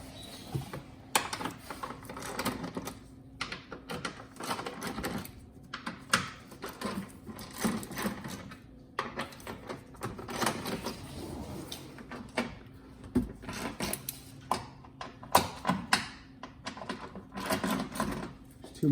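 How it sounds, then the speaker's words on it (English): A 3/8 ratchet with a 5/16 bit removing nuts from an underbody tray on a Mercedes-Benz GLK: rapid repeated ratcheting clicks in bursts with metallic handling noises, close and moderately loud. "We're gonna use our 5/16 bit with our 3/8 ratchet."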